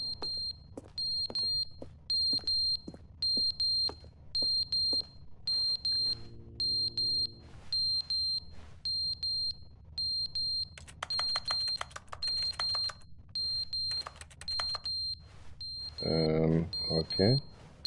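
A video game alarm beeps in a regular rapid pattern of short high electronic tones that repeats steadily, with a voice talking over it and a brief louder burst near the end.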